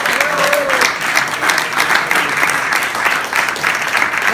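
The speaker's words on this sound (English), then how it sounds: "we can actually give a true, you know, round of applause for Obie" A crowd at a farewell party breaks into a round of applause, dense, steady clapping that holds loud and close for several seconds with a faint voice briefly rising above it.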